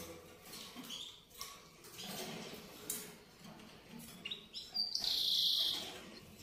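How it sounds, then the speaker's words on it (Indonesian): Small cage songbirds offered as dealer's stock chirp and tweet in short bursts throughout, with a brighter sustained high call near the end, amid a busy room. "Lanjut untuk burung yang berikutnya."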